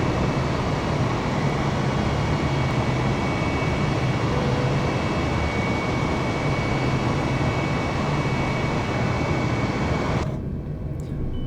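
Airbus A320 jet climbing out after departure from Charlotte in Flight Simulator 2020, a steady loud broadband engine roar with a faint high whine, holding level before cutting off abruptly near the end.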